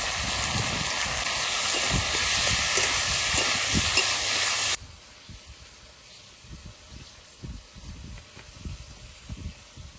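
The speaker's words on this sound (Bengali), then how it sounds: "এবার ঝিঙেগুলো দিয়ে দেবো, তারপরে ভালো করে ভেজে নেবো" Ridge gourd and potatoes sizzle in a pan, a loud dense hiss that drops suddenly to a quieter, crackling fry halfway through.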